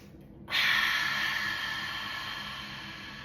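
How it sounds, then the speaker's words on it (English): A single deep breath during a stretching session: quiet at first, then a strong, breathy exhale starts abruptly and slowly fades over a few seconds, close and alone. "Inhale through our nose"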